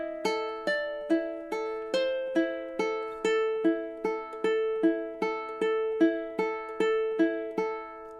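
A ukulele plays measures 6 and 7 of The Last of Us main theme: a steady run of plucked, ringing notes in a slow waltz-like rhythm, close and clear, with no voice.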